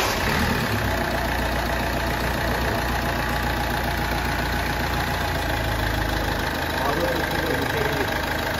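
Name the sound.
Ford Fiesta engine running at idle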